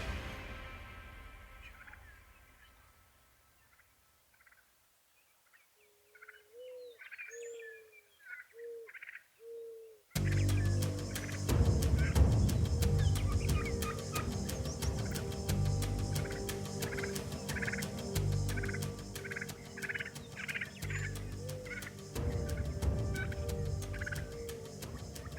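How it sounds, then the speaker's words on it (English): A wild turkey gobbler gobbles repeatedly, first as distant, clear calls in a quiet outdoor setting, then louder and closer in a series of bursts over a noisier background. "this gobbler is coming in on a string."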